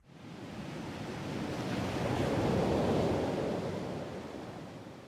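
An ongoing geyser eruption in the Minecraft video game sounds as a continuous broad rushing, hissing roar that swells gradually to a peak around the middle and eases slightly, heard alone without talk.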